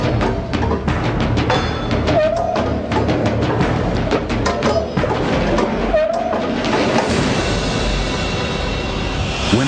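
A replica skin peeler torture device spins its blades against a dummy, with rapid repeated mechanical clatter and whirring, a couple of sharp metallic chimes, and a loud rushing whir that continues to the end.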